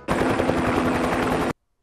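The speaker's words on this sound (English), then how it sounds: "The helicopters." Loud, dense helicopter rotor roar with rapid chopping in the 1980 film The Blues Brothers, close and continuous for over a second before cutting off abruptly into silence.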